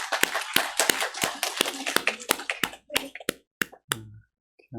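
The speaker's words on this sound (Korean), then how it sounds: "우리 하나님께 감사와 영광의 박수 올려드리겠습니다" A church congregation applauds during a Sunday service: a dense burst of many hands clapping that thins into scattered single claps and dies away near the end, with no voices.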